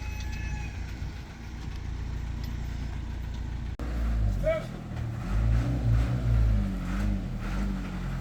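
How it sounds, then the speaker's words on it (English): A smaller tow truck pulls a 2012 BMW X6 into a garage, its low engine rumble steady throughout and growing heavier in the second half, with a person talking over it. "the smaller tow truck is in here, and it's going to get it inside there"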